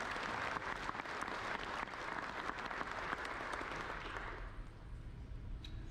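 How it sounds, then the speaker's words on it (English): Audience applause at a civil engineering user conference keynote, honoring the Premier Scholars: dense, steady clapping from a large crowd that holds strong for several seconds, then thins slightly toward the end. "another round of applause to our Premier Scholars"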